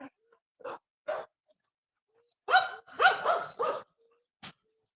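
Dogs in a yard let out a few scattered barks, then a louder cluster of barking near the middle, with quiet gaps between the bursts and one last short bark.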